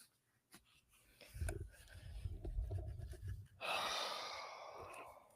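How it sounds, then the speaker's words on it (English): A big yawn from a person, breathy and drawn out, starting with a low sighing inhale and ending in a long airy exhale, close and fairly quiet. "Oh, big yawn."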